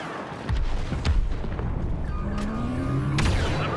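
Blaster fire and explosions hit the hot cell in Star Wars Battlefront 2. A dense barrage of shots and deep booms forms a constant loud rumble, with sharper cracks on top.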